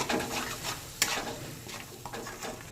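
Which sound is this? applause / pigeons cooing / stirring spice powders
stirring spice powders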